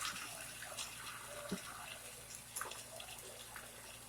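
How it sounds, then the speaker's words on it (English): Water is poured from a cooking pot into a kitchen sink, a soft, steady splash and trickle against a low hum, with a few faint clinks, fairly quiet throughout. "I'm going to pour the water out."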